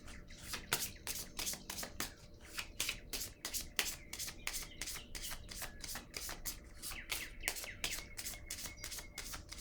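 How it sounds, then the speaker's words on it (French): Oracle cards being shuffled and handled, a rapid series of crisp riffling flicks and rubs close up, repeating in quick bursts over a faint room hum with no talking. "Je vais piger encore une carte ici."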